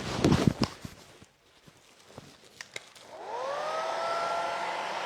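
A hair dryer blowing steadily up close while it dries paint on a Santa Merry Christmas sign, starting partway through after a few light taps and handling knocks.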